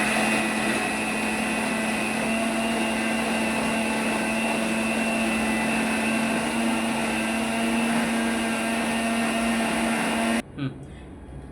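A kitchen mixer grinder churns cream with ice cubes and cold water to make ghee, its motor whirring loudly and evenly for about ten seconds before cutting off abruptly with a brief clunk.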